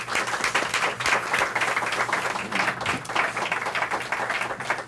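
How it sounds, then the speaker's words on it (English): Audience applause for a panel at a legal event on access to justice for military veterans and servicemembers, a dense, steady wash of many hands clapping throughout, fairly close and continuous with no talk over it. "if we could give them a round of applause"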